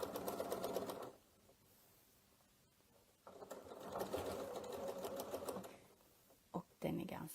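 A sewing machine runs in two bursts of rapid, steady stitching as it sews circles on a quilt, with a quiet pause between them and a brief clunk near the end.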